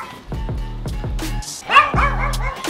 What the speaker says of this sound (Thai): โอ้ยหมาน้อย